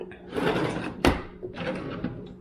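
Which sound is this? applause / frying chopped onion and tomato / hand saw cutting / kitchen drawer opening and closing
kitchen drawer opening and closing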